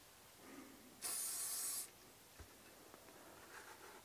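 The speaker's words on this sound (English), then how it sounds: "will spray some preservative solvent onto the cloth" A brief, sharp hiss of preservative solvent sprayed from a can onto a cleaning cloth while cleaning a centrefire rifle; one burst of just under a second, near and clear against a quiet room.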